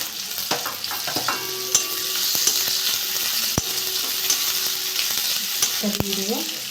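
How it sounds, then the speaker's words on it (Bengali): Garlic and onion sizzling in hot white oil in a wok, a steady loud frying hiss that runs throughout, broken by scattered sharp clinks and scrapes of a spatula against the metal, heard close up with no voices. "তেলটা গরম হয়ে গেছে, আমি রসুন দিয়ে দেবো, পেঁয়াজ দিয়ে দেবো,"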